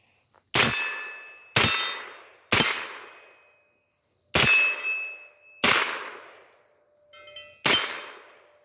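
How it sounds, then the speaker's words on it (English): Six rifle shots ring out at a shooting range, each followed by the sharp metallic clang of steel targets, spaced about a second apart and then a few seconds apart. "We're going to shoot multiple targets back and forth, rapid fire here."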